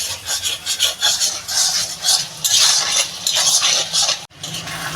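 Fish bladder fries with eggplant and garlic while a utensil scrapes and stirs it in the pan, with repeated close rasping strokes over a low sizzle and a short pause near the end.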